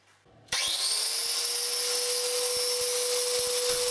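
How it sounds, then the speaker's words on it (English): Angle grinder with a grinding disc starts up and sharpens the edge of a Husqvarna CTH151 lawnmower blade clamped to a workbench, a loud sustained high whine after a quiet start, with faint ticking beneath. "you need a grinder equipped with a grinding disc"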